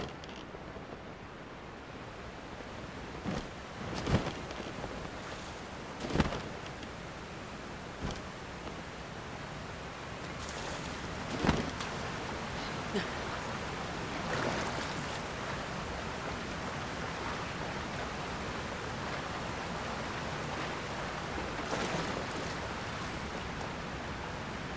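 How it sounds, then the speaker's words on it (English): Steady rushing water from a waterfall in the video game Tears of the Kingdom, a constant broadband roar with occasional soft splash-like bursts, moderately loud and unbroken, with no voices. "Would it be behind this waterfall?"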